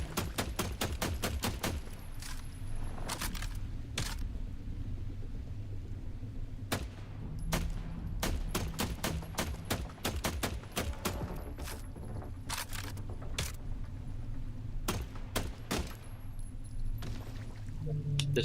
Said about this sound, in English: keep shooting it until we destroy the core